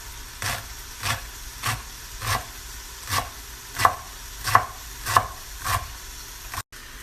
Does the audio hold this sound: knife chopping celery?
yes